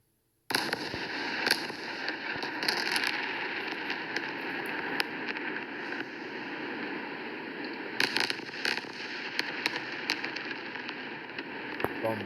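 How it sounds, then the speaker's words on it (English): Bombardment explosions from a played clip of Palestinians being bombarded: a dense, continuous crackling roar with sharp louder bursts scattered throughout, starting abruptly after a brief silence. "Bombarding the Palestinians, okay?"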